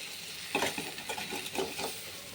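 Cut vegetables sauté in a hot pan, a soft continuous sizzle with several quick scraping stirs of a spatula, close by and fairly quiet.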